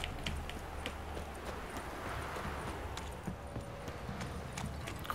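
Horse hooves in The Witcher 3 game, a dense rapid clip-clop of galloping heard steadily at moderate loudness over outdoor ambience, no talk.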